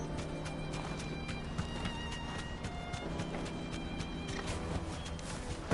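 A horse's hooves clip-clopping steadily in the video game Final Fantasy 16, with a whinny mixed into a busy, continuous game soundscape at moderate loudness.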